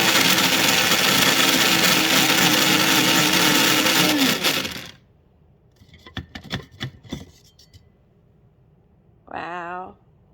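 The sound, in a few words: KitchenAid blender grinding freeze-dried onion into powder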